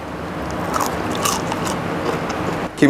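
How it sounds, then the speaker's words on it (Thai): A crisp bite into a fried vegetarian mock-pork nugget with a batter coating, one close crunch followed by brief chewing, loud and alone. "เดี๋ยวชิมรสชาติให้ดูนะครับ"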